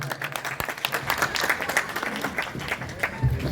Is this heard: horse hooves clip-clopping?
no